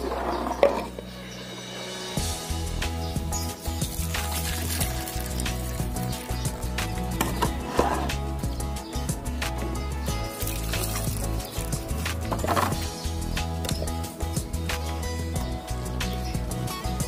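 Water trickling and splashing as it is poured into a plastic coolant reservoir holding baking soda, soap and vinegar, a steady liquid sound running throughout, close and moderately loud.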